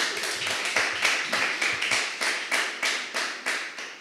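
Audience applause at a conference, a steady patter of many clapping hands at moderate distance, rising and falling in short swells.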